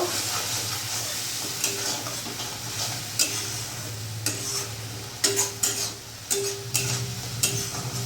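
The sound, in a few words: stirring and frying spices for fish curry in a pan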